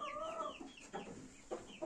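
A rooster and hen cluck nearby, a short rising call followed by a few quick clucks, loud and alone with no talk.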